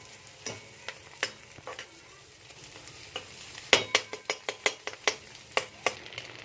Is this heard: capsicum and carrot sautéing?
yes